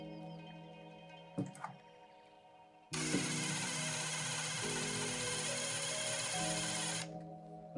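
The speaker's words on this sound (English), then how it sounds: "Make sure that you set your power tool on lower torque." Cordless power tool on low torque driving screws while assembling an aquarium filter kit: a sustained, loud whirring drone running steadily for about four seconds after a couple of brief handling clicks, with no talk.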